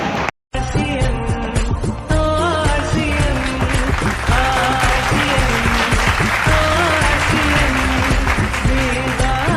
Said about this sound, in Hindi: आनंद डीलर जी, एक बार जोरदार तालियां।